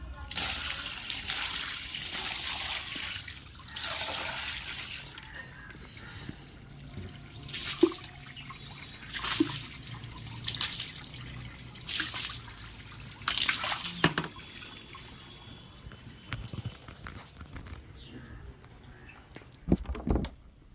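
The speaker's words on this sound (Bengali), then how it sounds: "দুয়ারে জল দিয়ে নি।" Water splashes onto a doorstep in repeated bursts, several distinct pours and sloshes separated by short pauses, fairly close, with quieter dripping between them and no talking.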